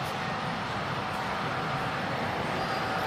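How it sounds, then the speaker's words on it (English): A large-scale model Norfolk Southern train of 85 cars with a PRR caboose rolls steadily at a 2024 train convention, giving a continuous, even rumble and rattle with no voices. "The NS train is back, and I now know how many cars is on this thing."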